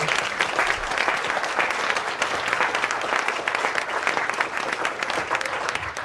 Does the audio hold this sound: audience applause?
yes